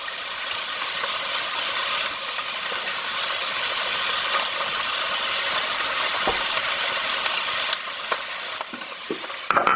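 Crushed garlic frying in a pan while being stirred, a steady close sizzle with occasional scraping and tapping of the utensil, ending with a few louder knocks, no speech.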